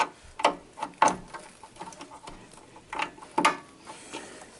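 Plastic fog light wiring connector on a Ford F150 snapping into place, giving a few sharp, close clicks spaced over several seconds with faint handling noise between them.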